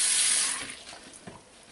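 Tap water runs to rinse handmade fine silver jewelry before scrubbing, a close, bright hiss that starts strong and then eases to a softer, thinner trickle.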